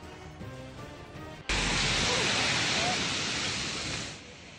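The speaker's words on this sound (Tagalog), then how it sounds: "Walang humpay ang hampas ng alon pagising kanina ng mga taga-Virac, Catanduanes." Storm-surge waves from Super Typhoon Pepito crash relentlessly at Virac, Catanduanes, a sudden loud roar of surf that starts abruptly after a stretch of talk and holds as a dense wash before easing.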